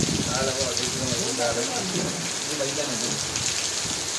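Steady rain falls in a village, a dense, even hiss on surfaces that continues without a break, with people talking faintly beneath it.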